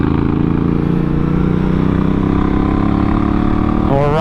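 A Honda Africa Twin CRF1000L DCT police motorcycle on the street with 21-inch front tire, engine drone steady and loud with rising harmonic tones, wind rush over it.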